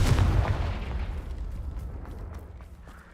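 Confringo fire spell explosion in the video game Hogwarts Legacy: a single close, punchy blast at the start that decays into a long rumbling tail with scattered crackles.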